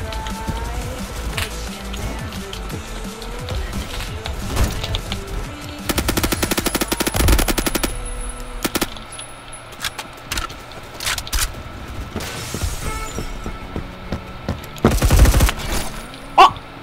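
AUG A3 gunfire in the Phantom Forces video game: repeated automatic bursts of rapid shots, several long strings and short volleys spread across the stretch, fairly loud, with game sounds between them.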